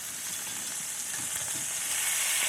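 A piece of meat for pot roast browns in a pan while being braised, giving a loud, steady, close sizzle with faint crackling that builds slightly toward the end, heard alone.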